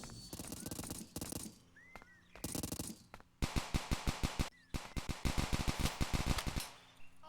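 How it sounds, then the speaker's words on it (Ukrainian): Rapid bursts of automatic rifle fire in the game Dude Theft Wars, short volleys then a longer stuttering stream of shots, loud and close. "я з автомата стріляю 300 раз"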